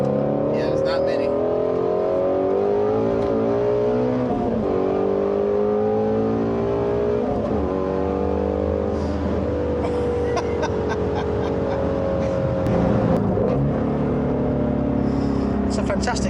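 A Ford Mustang GT350 engine revs and rises in pitch repeatedly, loud and close, with steady rumbling throughout and some talk underneath.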